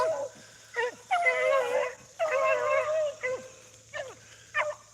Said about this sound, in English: I don't know if it's that Frank pup there whining like that or it's a little queen dog.